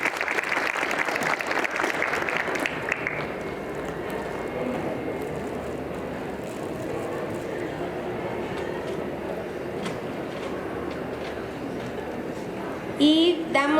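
An audience at a Medical Expo conference applauds a doctor receiving an award, a loud burst of clapping that fades into a softer, sustained patter and murmuring, with a sharper rise near the end.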